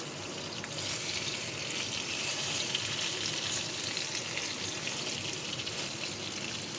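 Eggplant slices frying in a pan, giving a faint, steady crackling sizzle like light rain that holds constant throughout, quiet and close with no talking.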